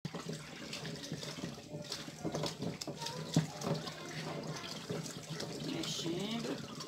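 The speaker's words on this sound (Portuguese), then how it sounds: "Mexer aqui até virar assim uma pasta" Homemade liquid soap made with fresh oil being stirred, giving a continuous wet sloshing and swirling of liquid, with someone talking over it.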